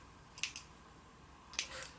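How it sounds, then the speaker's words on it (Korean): Small scissors snip stray wool fibres from a needle-felted otter, with two quiet, crisp cuts, each a quick double click, heard close against a soft room hush. "가위로 잘라줄게요."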